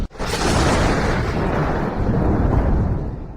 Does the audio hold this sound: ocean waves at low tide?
no